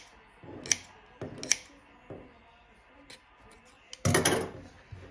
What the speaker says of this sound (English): Then you're going to take scissors and you're going to cut at the top of each loop.